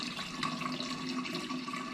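Filtered water pours steadily into a glass container for kombucha, a soft continuous splashing trickle without a break.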